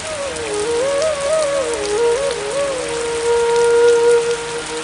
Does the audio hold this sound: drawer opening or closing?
no